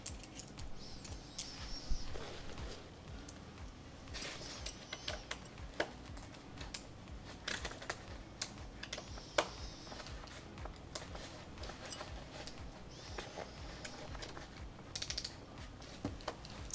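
A torque wrench tightens the BarYak Expedition mount on a bikepacking bicycle to 6 newton meters, producing quick, close ratcheting clicks in irregular bursts with small tool rattles, fairly quiet throughout.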